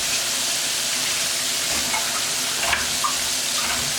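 Chicken backs fry in hot oil with a dense, steady crackling sizzle, close and continuous, with a few small pops, no voices.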